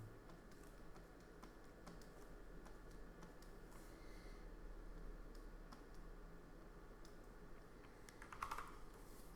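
Computer keyboard shortcuts typed while painting a lighthouse background in Photoshop: scattered, faint key clicks tap irregularly over a steady hiss, with no one talking.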